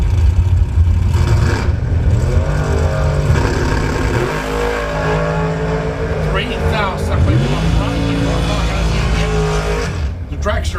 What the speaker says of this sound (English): The dragster going to take the win